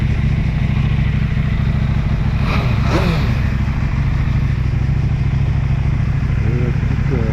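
A KTM 790 Adventure motorcycle engine runs loudly and close, a steady low rumble with a short rise in pitch around the middle, and a voice faintly present.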